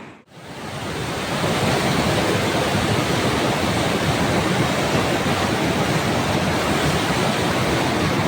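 Roaring river floodwater surges through the washed-out temporary bridge at Dudhia on the Balason, a loud, steady, broadband rush that continues unbroken with no voices.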